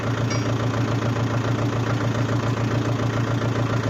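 A tractor engine idles steadily in a field, a close, even low rumble with a regular pulsing throb and no voices.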